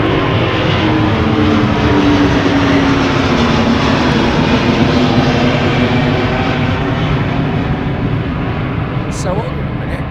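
An Airbus airliner at London Heathrow Airport gives a loud, steady engine roar close by that fills the whole stretch, with talk underneath.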